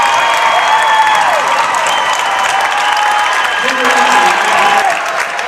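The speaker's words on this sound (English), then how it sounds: "So the crowd is absolutely pumped up for this game now, folks." Crowd cheering and applauding steadily at a girls' high school varsity basketball game in a gym, loud and sustained throughout with a dense roar of voices and clapping.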